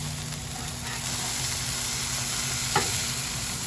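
Salmon burgers sizzle in a frying pan with a steady, close crackling hiss, and one brief clatter near the end.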